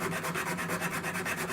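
A needle file rasps against a metal ring in quick, even back-and-forth strokes, a soft, close scratching repeated in a steady rhythm with no talking.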